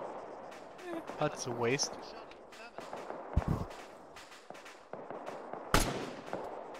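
Video game gunfire in a military shooter cracks out in scattered sharp bursts, a couple of them loud and booming, while players talk over the action.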